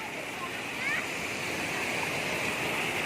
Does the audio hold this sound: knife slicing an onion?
no